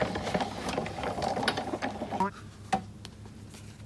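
An embossing folder, spine first, is run through a manual embossing machine, giving a close, steady mechanical grinding and ratcheting for about two seconds, then dropping to quiet with a single sharp click.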